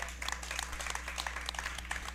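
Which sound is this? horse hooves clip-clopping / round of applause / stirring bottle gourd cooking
round of applause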